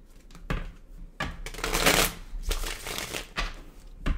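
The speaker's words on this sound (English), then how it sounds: "One more shuffle." A deck of cards is riffled and shuffled several times, crisp fluttering bursts with brief pauses between, close and fairly loud.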